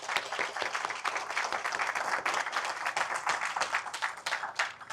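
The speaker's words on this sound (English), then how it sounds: "Please join me in a round of applause for the team at the World Affairs Council of Atlanta." A room of attendees at a World Affairs Council of Atlanta morning event applauds together, dense steady clapping that stays strong and continuous throughout.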